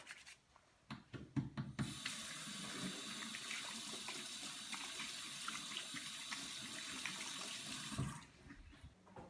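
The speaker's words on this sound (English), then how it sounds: "quickly put them on, and then go wash your hands very thoroughly" A tap runs steadily into a sink as hands are washed thoroughly in a classroom kitchen, with rubbing and splashing under the flow, preceded by a few knocks and clatters before the water starts and stopping near the end.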